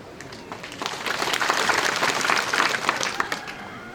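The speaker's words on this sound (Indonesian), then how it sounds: "Beri aplaus." A congregation at a church donation ceremony in West Papua breaks into applause, the clapping swelling from light scattered hands to a fuller, sustained round before easing slightly, with a voice briefly heard.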